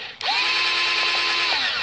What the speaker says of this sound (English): make sure the drill's going the right way